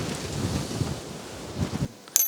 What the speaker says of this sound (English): the weather is now just getting too bad, very windy